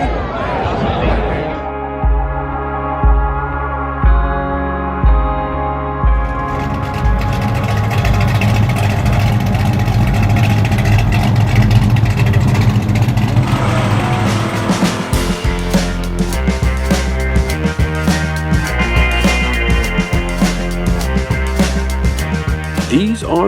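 Chrysler, Plymouth and Dodge Mopar muscle car V8 engines idling with a deep lumpy rumble, then revving and running loud and close in a sustained throaty roar with sharp repeated bursts toward the end.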